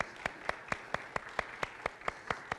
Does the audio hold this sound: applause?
yes